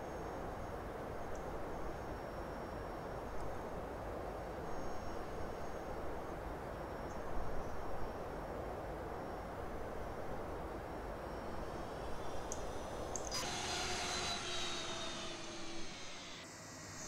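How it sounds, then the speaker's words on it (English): Boeing 757 auxiliary power unit starting up in the X-Plane 11 flight simulator, a steady broadband turbine whoosh with a rising whine and a brighter spool-up surge near the end, heard alone. "I'm gonna go ahead and start the APU now so I don't forget to do it later"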